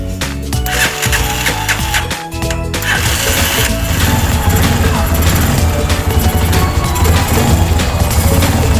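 A Honda TMX125 motorcycle engine after a tune-up starts with a few rough bursts, then settles into a loud, steady, rattling idle close to the microphone. A voice speaks briefly near the start.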